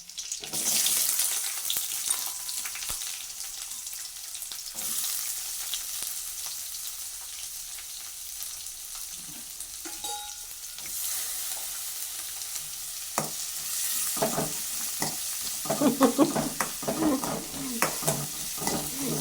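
Onions sauté in a pan for okra kuzhambu, alongside garlic and curry leaves, with a ladle stirring and scraping. A continuous sizzle runs under irregular knocks and clatters that grow busier toward the end, and no one speaks.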